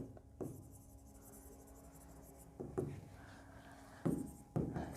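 A marker or chalk scrapes across a board during a chemistry lesson. Several brief, soft strokes sit over a low room hum, and the sound is faint with no talking over it.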